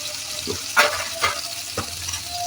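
Chopped onions with salt sizzle in hot oil in a pan for a pepper gravy, with a steady frying hiss broken by a few sharp scraping stir strokes, close and fairly loud, with no talking.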